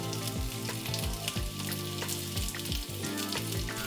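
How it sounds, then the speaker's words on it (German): Stuffed bitter gourd frying in a pan after being turned to brown the second side, a steady close sizzle with scattered pops and stirring clatter throughout. "Dann wenden wir die Bittergurke und braten die andere Seite an."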